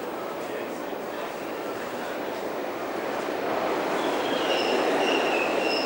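A train moves along a railway platform with a loud, steady rumble and hiss of rolling wagons that swells toward the end. Faint high wheel squeal shows near the close.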